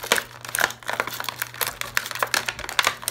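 Small plastic accessories for a Superstar Billy Graham action figure, such as hands, sunglasses and a boa, are popped out of plastic packaging in a quick series of sharp crinkles, crackles and snaps, close up with no talking.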